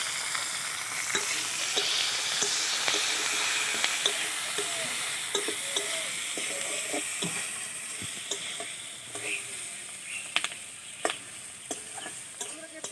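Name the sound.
capsicum frying in oil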